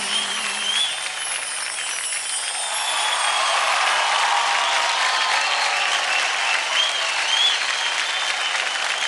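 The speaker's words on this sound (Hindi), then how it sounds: "जोरदार तालियां हो जाए रजस्मिता और अभीक के लिए" A television dance show audience breaks into loud, sustained applause after a dance performance, swelling and holding as a dense wash of clapping with a faint cheer.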